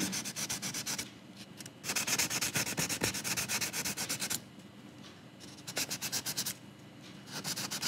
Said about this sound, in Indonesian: untuk hasil terbaik kita amplas lagi teman-teman ya